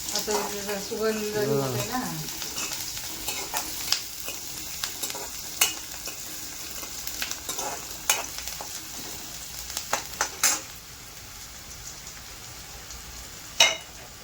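Curry leaves dropped into hot oil for a potato and eggplant mixed vegetable bhaji, first a brief burst of low spitting, then crackling sizzle with scattered sharp pops and spoon scrapes, close by, with a voice talking.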